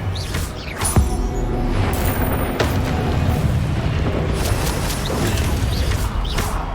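A Confringo fire spell from the Hogwarts Legacy video game bursts with a loud, deep boom, and a rumbling, crackling roar follows and holds steady.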